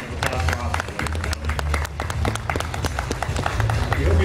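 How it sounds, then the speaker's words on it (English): A crowd applauds the Honda Asimo robot after a demonstration at the NBAA 2010 convention: sustained, dense clapping from many hands at moderate distance, with voices mixed in beneath it. "Let's have a nice big round of applause for Asimo."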